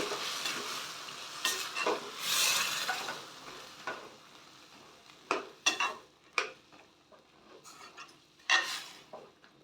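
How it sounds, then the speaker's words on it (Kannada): A spice mixture being fried and stirred in a pan for a sprouted mixed-gram curry: faint sizzling under scraping bursts of a spoon against the pan, coming in irregular strokes with quiet gaps. "ಇದು ಫ್ರೈ ಆಗ್ತಾ ಇರುತ್ತೆ"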